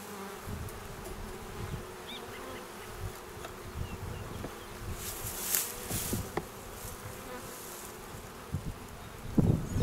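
A docile group of honey bees drones steadily on foundationless frames in a hiving trap, a soft continuous buzz with occasional louder passes and faint rustles near the end.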